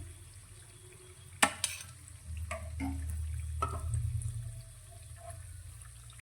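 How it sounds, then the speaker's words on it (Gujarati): Green fenugreek snacks frying in oil, a low bubbling sizzle with a few sharp clinks and scrapes near the start, fairly quiet and steady, without speech. "આ જ રીતે આપણે બનાવેલા બધા જ નાસ્તાને ફ્રાય કરી લઈશું"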